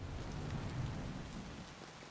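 A steady, dense rain and a low rumble of thunder fill a stormy video game scene, holding an even roar with no voices.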